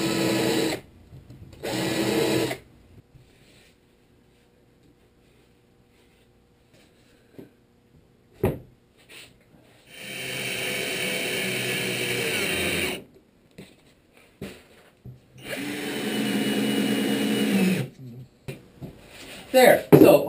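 A power driver sinks stainless steel screws into a wooden boat transom during a hydroplane build, whirring in several separate bursts of a few seconds each with quiet gaps between them.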